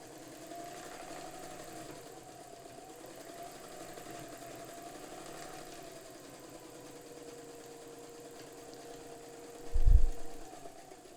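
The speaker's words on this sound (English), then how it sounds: "we've got a much shorter stitch length. And we also have a narrower zigzag" A White 568 sewing machine stitching a short, narrow zigzag runs as a steady close mechanical whir with a low rhythmic chatter, ending in a brief louder thump.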